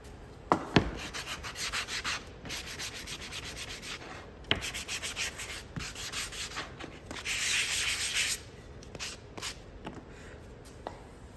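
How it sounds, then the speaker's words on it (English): Close, rhythmic rasping strokes of sandpaper over the edges of a small wooden holiday craft piece, quick back-and-forth rubbing with brief pauses and a few light taps. "let me get these edges sanded up a minute"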